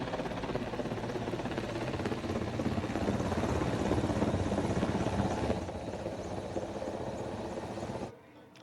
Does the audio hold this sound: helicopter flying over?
yes